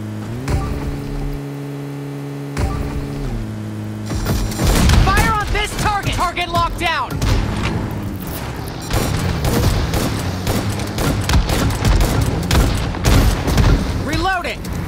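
Shooting-game gunfire in a 2v2 Ragegear match: dense, close bursts and booming shots crowd the scene after a quieter hum at the start, while players talk over the fight.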